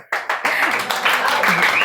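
Applause breaks out at a Lunes Feminista gathering celebrating women who won elections, a dense burst of clapping starting abruptly and continuing steadily, mixed with crowd voices and cheering.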